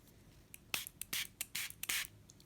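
Water from a spray bottle spritzes onto a Distress Reinker background in about five quick, close hissing bursts, each followed by a short pause.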